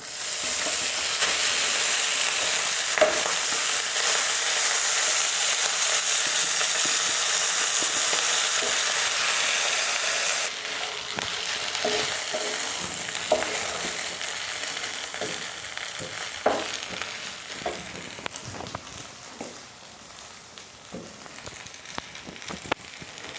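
Rice tipped into a hot pan with bay leaf and two cloves for sweet zarda pulao, then stirred: a steady loud sizzle with scraping spoon strokes that eases after a few seconds, no talking.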